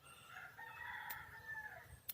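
A rooster on a small farm crows once at a distance, a faint drawn-out call under quiet background noise with a couple of brief clicks.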